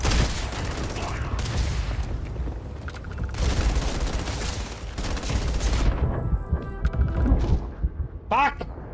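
Rapid gunfire bursts in a space adventure video game, with dense loud volleys that break off near the end, followed by a few brief electronic tones.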